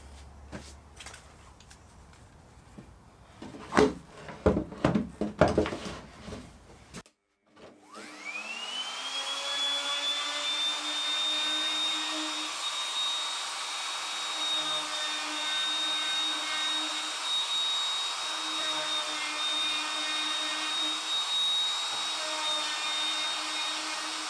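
A router spins up and rounds over the dog holes in a workbench top, a loud, steady high whine that holds for a long stretch after some clattering handling noises at the start.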